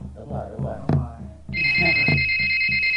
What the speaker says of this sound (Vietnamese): Dạ con có điện thoại.